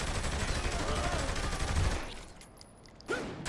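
Gunfire in a shooter video game, with enemies firing shotguns from long range, rattling as dense continuous bursts for about two seconds before cutting out, then one sharp shot near the end.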